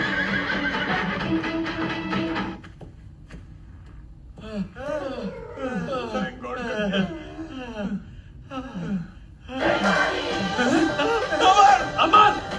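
A horse at a wedding procession whinnies in a run of repeated, wavering neighs, loud and close, between stretches of people chattering and music.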